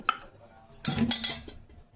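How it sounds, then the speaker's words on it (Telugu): Fruit pieces and cooked semiya being mixed together in a bowl, with a few quick spoon clinks and a short burst of scraping against the dish in the middle, otherwise quiet. "ఇవి మొత్తం వన్ బై వన్ ఒకటి వేసుకుంటూ మనం మొత్తం కలిపేసుకోవాలి"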